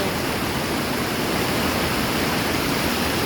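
Water rushes over rocks at the Huai Mong waterfall in flood, a steady, loud broadband roar with no break.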